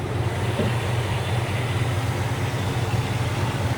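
The 400 engine of a 1968 Oldsmobile 442 convertible idles with a steady, smooth low rumble, close and even, with no talking.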